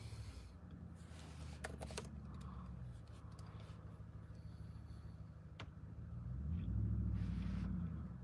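A loud truck engine rumbles nearby as a steady low drone, with a few faint clicks on top. The rumble swells louder for a couple of seconds near the end.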